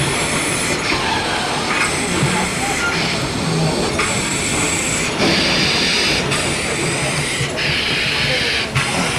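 A steam locomotive train built in 1943 rumbles steadily close by at Dollywood, with rattling wheels and a rhythmic clatter over the tracks, masking a voice talking underneath.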